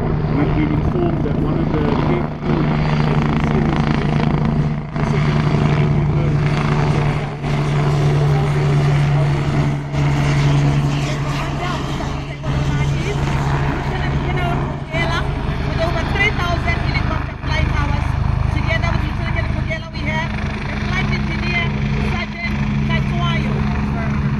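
An Agusta helicopter flies during a mock combat display at an airshow at Waterkloof Airbase, its steady rotor and engine drone continuing throughout while an announcer talks over a public address system.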